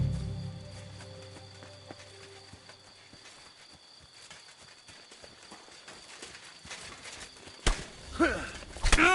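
Horse hooves clop along in Kingdom Come: Deliverance 2, with a steady rhythmic gait over crickets and ambient insect noise, growing louder toward the end amid a few other game sounds.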